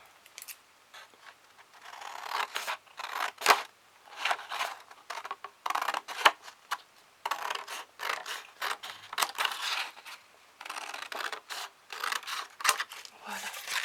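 Scissors cut fabric pieces for a three-compartment pouch in a close, rhythmic run of crisp snipping and scraping strokes, with short pauses between bursts in a quiet room.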